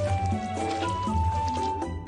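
In a cartoon cooking game, chocolate spread is squished and smeared onto sandwiches with wet, gloopy squelches and dripping tones over light game music, ending in a short click.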